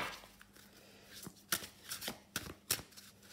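A deck of tarot cards is shuffled close up, with quick riffling bursts and several sharp snapping flicks in an uneven rhythm against a quiet room.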